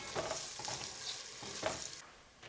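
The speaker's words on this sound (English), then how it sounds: "I'm going to add just a little salt and a little pepper. And give that a stir." Onions fry in a pan while being stirred, giving a steady close sizzle broken by scraping spoon strokes, with no talking.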